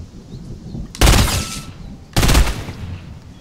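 Two loud sniper shots in a video game, each a sharp close blast with a short decaying tail, about a second apart.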